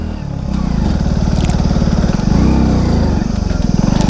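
A 100cc motorcycle engine labouring in first gear up a steep mountain road toward Gangotri, a loud continuous low throbbing drone that rises slightly as it climbs.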